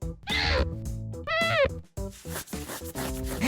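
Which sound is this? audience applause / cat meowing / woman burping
cat meowing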